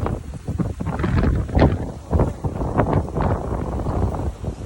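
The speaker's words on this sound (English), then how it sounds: "A little windy today." Gusty wind buffets a microphone outdoors at a beekeeping site, producing loud, irregular rumbling bursts and flutter throughout, with no clear speech.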